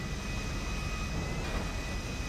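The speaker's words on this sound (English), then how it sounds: "I'm trying to fly a plane here." A plane flying in the video game GTA 5, a steady droning engine roar with a thin whine, constant and unbroken, without talk.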